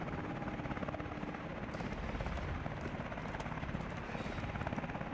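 A helicopter in the Call of Duty Advanced Warfare video game thrums steadily and loudly throughout, its rotor chop dense and continuous, mixed with faint battle noise.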